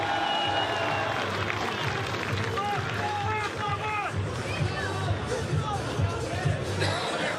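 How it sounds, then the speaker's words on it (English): A crowd at a UFC 284 fight week event applauding Islam Makhachev, with a dense wash of clapping and cheering and voices talking over it, loud and sustained. "give it up for Islam Makhachev"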